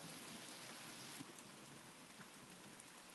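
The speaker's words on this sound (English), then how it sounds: "can you hear the rain?" Rain falling outside, a faint, even hiss of drops with occasional slightly louder patters, heard from a distance with no voices.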